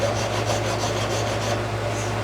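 Half round file rasping across a metal bezel in steady back-and-forth strokes, close and loud, a continuous rhythmic scraping over a low hum with no talking.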